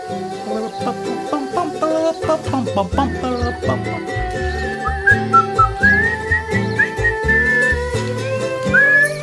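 A person whistles a melodic tune over a rhythmic musical accompaniment in a wildlife adventure game, the whistled notes clear and sustained, rising and falling.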